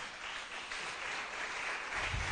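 Congregation applauding during a church service, a brief, fairly faint wash of many people clapping in a large room.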